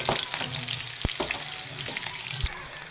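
A tadka of garlic, split green chillies, whole cumin, turmeric and Kashmiri red chilli sizzles steadily in hot oil for masoor daal, a close, continuous crackling hiss with a couple of sharper pops.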